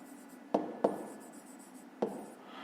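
Pen writing on paper during a fifth-grade math exercise, soft scratchy strokes with three sharper taps, quiet and close, no voices.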